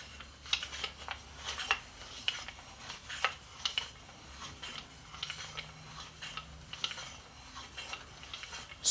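A homemade smoke grinder being cranked by its handle gives a quiet, rhythmic run of ticking, rasping turns, close by and faint, with no talking.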